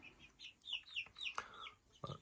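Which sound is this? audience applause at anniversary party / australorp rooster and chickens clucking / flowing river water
australorp rooster and chickens clucking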